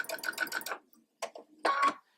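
A sewing machine stitching fabric while sewing off a quilt block, with a rapid burst of stitches followed by two shorter runs, close and clear with no talking.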